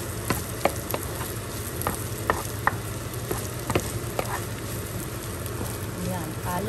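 Fried rice (sinangag) being stirred in a pan, with steady frying sizzle and repeated clicks and scrapes of a utensil against the pan at an irregular rhythm, close and moderately loud.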